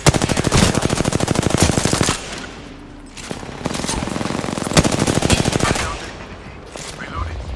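Automatic weapon fire in a video game: rapid, loud machine gun bursts chattering close up, broken by short pauses and quieter stretches before the firing resumes.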